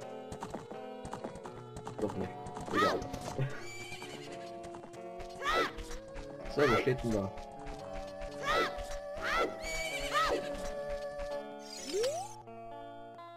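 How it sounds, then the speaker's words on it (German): Horse neighs and clip-clopping hooves from the video game Zelda: Ocarina of Time, with several sharp whinnies repeating over a musical background while someone talks. "Ah, ein Pferd! Ein aggressives Pferd,"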